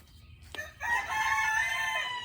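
A backyard rooster crows once, a long sustained cock-a-doodle-doo that rises sharply after a brief click and holds steady to the end, fairly close and clear over a low background rumble.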